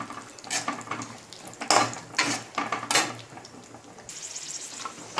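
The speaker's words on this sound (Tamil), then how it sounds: "ஸோ கிரேப்ஸ் போட்டுட்டு நல்லா வந்து வதக்கிங்க." Raisins stirred and fried in ghee in a pan for rava laddu, with close metallic scraping and clinking of a spoon against the pan over a low frying hiss, in bursts of stirring, no talking.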